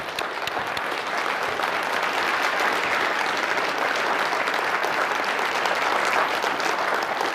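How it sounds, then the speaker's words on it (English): An audience at a city staff event applauds the staff and department heads, a loud, continuous wash of many hands clapping that holds steady for the full stretch without any talking. "Please give them, the staff, the department heads, Decker Plain, the folks who put this together, one last round of applause"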